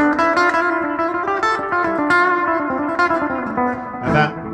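Electric guitar with a distorted, effected tone plays a steady run of single notes through a natural minor scale, loud and sustained without any talking.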